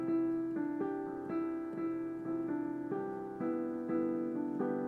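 Solo piano plays a tune in an easy hotel-lounge style, a steady chordal melody with gentle sustained notes, moderately soft and alone with no voices.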